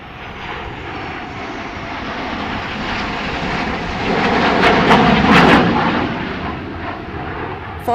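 The Netra formation roars past at the Aero India airshow in Bengaluru, a broad continuous rumble of aircraft engines that swells toward the middle and eases off again, heard from a distance with no talk.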